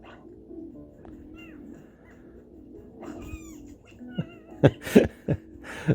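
A Nintendo Alarmo alarm clock playing Pikmin sound effects: soft chirpy, cooing calls and squeaky tones building into a few louder sharp bursts toward the end, fairly close and quiet.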